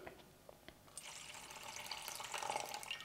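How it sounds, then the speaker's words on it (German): Water, 270 grams of it, poured into a bowl for potato bread dough: a soft, quiet splashing stream that begins after a second and continues steadily, with no talking. "Ich starte auch wieder hier mit der gleichen Menge an Wasser, also mit 270 Gramm."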